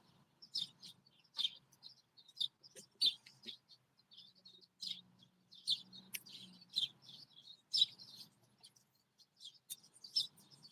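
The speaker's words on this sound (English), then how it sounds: "Sounds like a damn bird sanctuary." Several birds chirp and tweet outdoors on a morning, bright short calls repeating in uneven bursts at moderate distance, with a low murmur of voices underneath at times.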